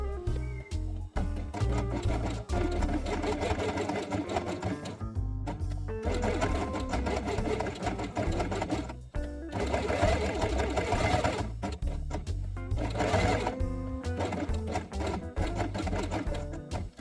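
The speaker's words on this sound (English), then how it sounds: "Place the brown element on them and sew along the edge with beige thread." A sewing machine stitching brown and white felt with beige thread, a loud, close rapid mechanical chatter running in long bursts with short pauses between runs.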